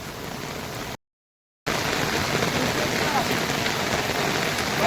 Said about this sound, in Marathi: डेंजर पूर आला, एकदम डेंजर.